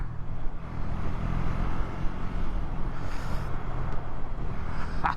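A KTM Duke 390 motorcycle pulls away in first gear, a steady rough engine roar with wind noise running loud and continuous throughout, close to the rider.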